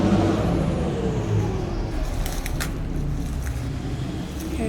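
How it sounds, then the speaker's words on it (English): Road traffic on a main road outside a property gate in Sonzacate, a steady broadband rumble of passing cars with a brief vehicle swell, fairly close and continuous with no talk. "You hear the traffic."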